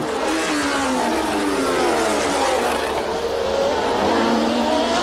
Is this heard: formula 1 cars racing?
yes